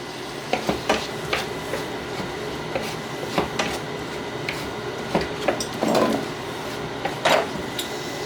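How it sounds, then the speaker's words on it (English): Vegetables sauté in a pan for Swiss steak and BBQ potatoes, with a constant close sizzle and a run of sharp utensil clicks and scrapes scattered irregularly throughout. "And then you're going to saute these right here for 3 minutes."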